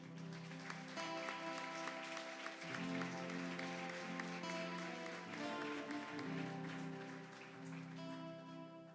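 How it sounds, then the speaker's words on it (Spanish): A church congregation applauds during a Spanish-language sermon on Christ's resurrection, a steady wash of clapping filling the space over a continuous musical tone for the full nine seconds. "¿Le puedes dar un aplauso a Dios por eso?"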